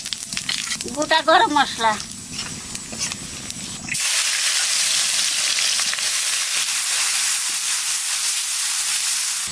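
Someone speaks briefly, then cumin, bay leaf, dried chili and whole spices hit hot oil in a Bengali home kitchen cooking desi chicken curry, bursting into a loud, steady, close sizzle that fills the rest of the clip.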